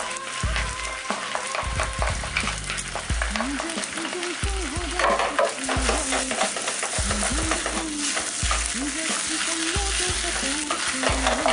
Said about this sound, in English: Now what I'm going to do is I'm going to add my special chow mein sauce